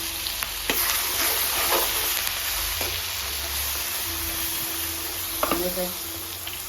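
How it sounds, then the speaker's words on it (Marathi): Curry leaves sizzle and spit in hot oil with ginger-garlic paste for a prawn masala, a steady broadband frying hiss with a few sharper crackles and pops, close and loud throughout with no talk. "अद्रक लसूण पेस्ट. याच्यातच कढीपत्ता टाकून देऊया"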